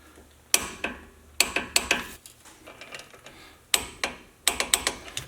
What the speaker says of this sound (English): Now that both of these are in, I'll tighten them down to 45 foot-pounds.